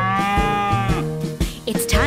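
A cartoon cow gives a long, drawn-out moo over a bouncy nursery-rhyme farm tune, with a few short percussive hits and brighter squeaky sounds near the end.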